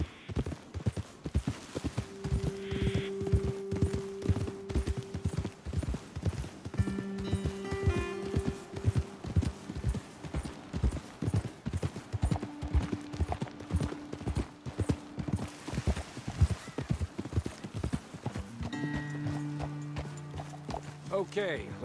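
Steady clip-clopping of horse hooves in the video game Red Dead Redemption 2 continues throughout, with people talking over it.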